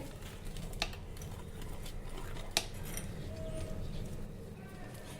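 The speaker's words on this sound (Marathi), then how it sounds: "हा पराठा मी तुम्हाला कापून दाखवते" A knife cutting through a cheese and onion stuffed paratha on a plate, two sharp metallic clinks of the blade against the plate over a low steady background hum.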